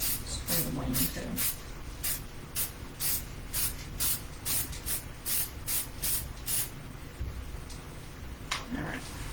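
Short, evenly spaced hissing bursts from an aerosol can of glossy wood tone finish sprayed over the wing of a decorative fake turkey, repeating steadily and close by, then trailing off near the end.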